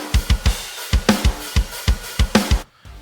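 Raw, unprocessed drum kit from the Ultimate Heavy Drums library plays a steady heavy rock groove: punchy kick and snare hits alternating with washy cymbals, ending abruptly in near-silence.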